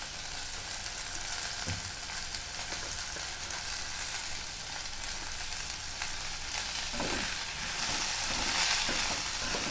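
Coriander, pepper, cumin and fennel dry-roasting in a pan, making a steady close crackle and light sizzle with occasional scraping stirs that grow slightly louder near the end, with no voices.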